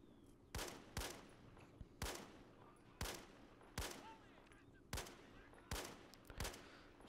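Gunfire in the WWII strategy game Men of War: Assault Squad at retreating German soldiers near a flak battery, with sharp rifle-like reports at a roughly regular pace, about a dozen shots over a low rumbling background.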